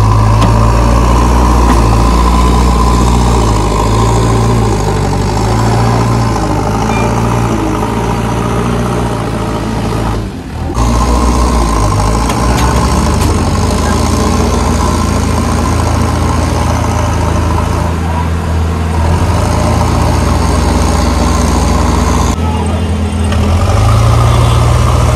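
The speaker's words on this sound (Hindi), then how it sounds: "ट्रैक्टर है गाड़ी" A tractor engine idles at a construction site, a loud, steady low diesel rumble with a constant throb that continues for about 25 seconds, with a brief dip near the middle and no talking.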